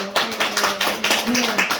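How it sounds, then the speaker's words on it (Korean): A church congregation claps in praise during a service: a short burst of many hands clapping in a loose, steady rhythm, moderately loud in a reverberant hall. "우리 그런 예수님께 우리 영광의 박수"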